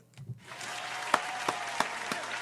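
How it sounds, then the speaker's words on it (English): An audience breaks into steady applause after a brief moment of quiet, with a few louder claps standing out, heard from a moderate distance. "round of applause"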